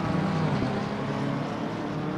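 Race car engine in a racing video game set at Spa, a steady loud droning roar with dense low rumble held evenly throughout, no talk over it.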